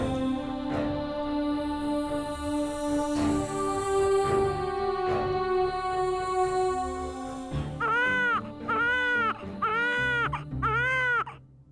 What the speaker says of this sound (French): Je me demande d'où vient le bruit des cris d'un enfant qui pleure.